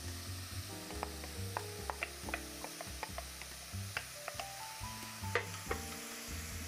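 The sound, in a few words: sauteing tempeh in a pan for vegan bolognese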